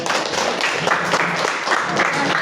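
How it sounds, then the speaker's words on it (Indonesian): A classroom crowd claps steadily throughout, a dense, even patter of many hands with a faint murmur underneath. "tepuk tangan dulu"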